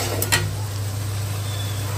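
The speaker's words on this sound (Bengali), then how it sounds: "আর এখানে খিচুড়ির জন্য মশলাটা কষানো হচ্ছে" Spices sautéing in a pan for khichuri give a steady low sizzle with a couple of brief stirring scrapes near the start, no voices.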